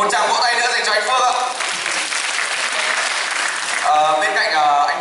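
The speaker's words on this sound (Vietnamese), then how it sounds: "Một tràng vỗ tay nữa dành cho anh Phước ạ." Applause from an audience at a new-student alumni talk, a broad, loud burst of many clapping hands filling the middle stretch, with an amplified voice speaking before and after it.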